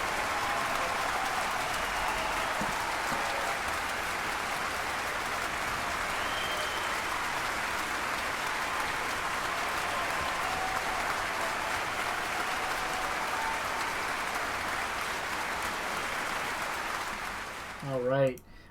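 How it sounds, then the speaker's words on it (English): A concert audience applauds after a live performance of music: sustained, even clapping heard from a distance and fairly faint, tapering off near the end with a brief noise. "I wanted to let the claps go through there."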